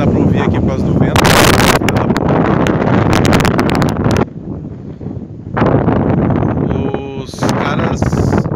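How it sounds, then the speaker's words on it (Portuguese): Heavy wind buffets the microphone in loud rumbling gusts that ease off midway, with a person talking under the noise. "Não sei se dá pra ouvir aqui por causa do vento."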